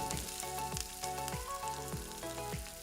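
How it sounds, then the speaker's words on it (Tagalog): Garlic and onion sautéing in hot olive or cooking oil make a soft, continuous frying hiss. Quiet, repeated stirring strokes run through it at an even pace, and nobody speaks. "Kapag mainit na itong ating olive oil or cooking oil, isutay na po natin ang bawang. Add po natin ang sibuyas."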